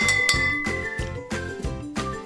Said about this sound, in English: Stir it until it's cold